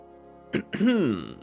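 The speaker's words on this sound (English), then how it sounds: "Time to clear my throat, see?" A man clears his throat with two quick rasping bursts followed by a longer voiced grunt, close to the microphone in a quiet room.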